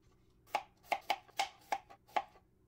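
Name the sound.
knife cutting potatoes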